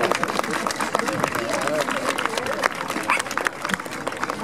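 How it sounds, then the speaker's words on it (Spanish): Spectators clap at an outdoor Guardia Civil sniffer-dog and bomb-disposal demonstration, with scattered nearby applause mixed with crowd noise while a voice talks over it. "Un aplauso"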